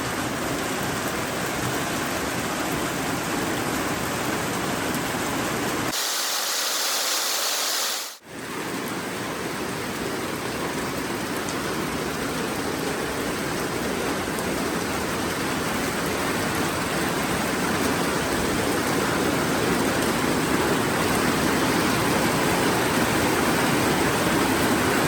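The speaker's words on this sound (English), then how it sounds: "What a rainy day in the village." Heavy evening rain in an African village pours steadily in a dense, hissing wash, broken by a brief quieter moment before the downpour continues unabated.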